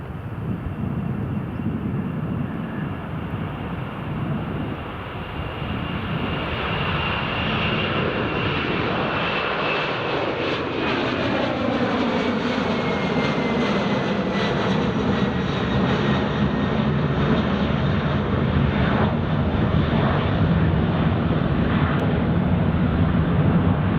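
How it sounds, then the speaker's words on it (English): A Delta Boeing 767 jet departs Edinburgh Airport with a loud, continuous engine roar that swells and holds steady, a broad rushing sound filling the scene from start to finish. "Here's the Delta 767 departing."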